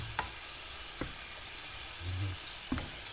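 A spoon stirs tomato and tuna sizzling in a frying pan, giving a steady soft fry with a few sharp scraping taps and a brief clatter.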